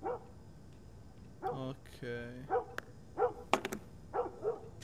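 A dog in The Last of Us video game gives several short, fairly close barks and yips spread over a few seconds. One brief spoken word comes in between them.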